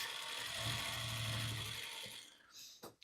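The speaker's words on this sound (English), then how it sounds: "sometimes you just have to crank your wheel forward towards you a little bit and it will loosen up the thread" A sewing machine handwheel being cranked by hand while working quilt blocks gives a soft, close mechanical whir with faint clicking for about two seconds, followed by a couple of quick light knocks.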